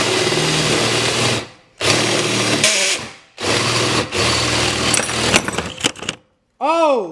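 A power drill bores holes in parts for a custom scooter build, loud close whirring runs stopping and restarting several times, followed at the end by a short rising vocal whoop.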